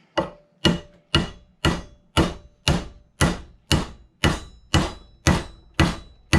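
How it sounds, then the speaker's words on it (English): A hammer strikes steadily, about thirteen evenly spaced blows, seating a vintage Swedish axe head onto a new wooden handle, each hit sharp and close with a brief decay. "I'll go to a little bit bigger hammer."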